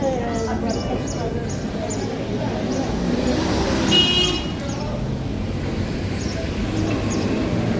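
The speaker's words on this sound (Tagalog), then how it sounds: "Pag dito talaga puno sa mga sasakyan, hindi tayo makadaan." Cars pass along a busy road beside a Saturday market, making a steady roar of traffic with occasional brief horn toots and voices in the background.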